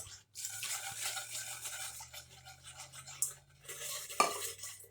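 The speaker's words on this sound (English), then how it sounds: "You just cook and stir it." A small whisk scraping and clinking around a pan as half and half is stirred into a blueberry cream pie filling, close and fairly quiet, with a brief louder metallic tap near the end; no talk.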